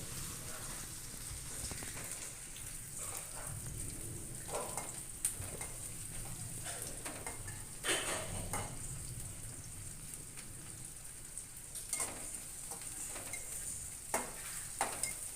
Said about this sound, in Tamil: வெங்காயம் நல்லா கலராக வர முடியும் நல்லா வதக்கி எடுத்துக்கோங்க.